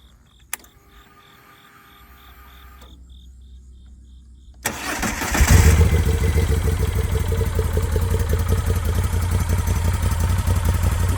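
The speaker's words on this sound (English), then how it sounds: "Let's start her up and hear that V-twin spring to life." Moto Guzzi V7 Stone V-twin motorcycle engine starting: faint ticking and a quiet whir, then the starter cranks and the engine catches with a sharp burst and settles into a loud, steady, throbbing idle close by.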